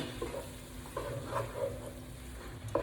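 Tri tip chili browning in a pan is stirred, giving a soft sizzle with scraping stir strokes at a moderate, quiet level, no talk.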